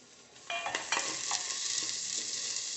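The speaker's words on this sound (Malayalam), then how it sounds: "ഇനി നമുക്ക് സവാള ചേർക്കാം." Sliced onions hit hot oil in a frying pan for vegetable pulao, a sudden close sizzle that settles into a steady frying hiss with a few stirring scrapes, no voices.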